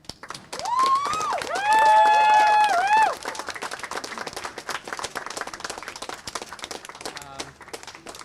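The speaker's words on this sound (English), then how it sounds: "Let's give them another round of applause" A crowd at an outdoor tenants' solidarity pop-up event against a lockout at Union Plaza claps steadily, with a long high cheer rising over the applause early on before the clapping thins and carries on under scattered voices.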